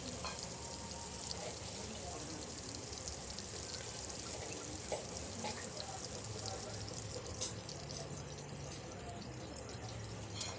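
Onions frying in oil in a pan keep up a continuous low sizzle for several seconds, with occasional soft scraping stirs and light clinks mixed in.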